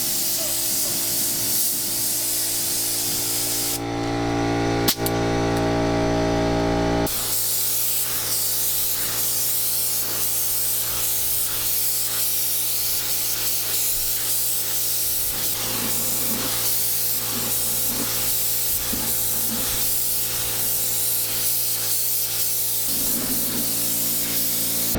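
A spray gun applies epoxy primer to a 1968 Buick Skylark, giving off loud steady hissing bursts that include one sustained blast near the start, with a continuous compressor-like drone running underneath throughout.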